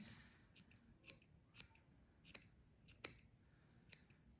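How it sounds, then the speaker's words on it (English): Scissors trimming the loose strands of a yarn pom-pom made with a pom-pom maker: about eight short, crisp snips spaced unevenly, close and clear over a quiet background with no talk. "Let's trim them off."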